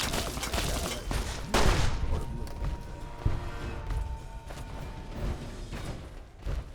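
Rapid bursts of gunfire in the Fallout 3/New Vegas wasteland, played as the Tale of Two Wastelands mod. Dense volleys fire up close with sharp thuds and mechanical clacks over a steady background.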